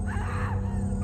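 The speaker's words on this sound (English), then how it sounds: "It was a woman's scream," A woman's scream used as a horror sound effect: a short, strained, wailing cry of about one second, loud and close.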